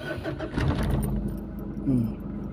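A car engine cranks and catches with a rising rumble, then settles into an idle with a brief rev near the end, all close by under someone talking.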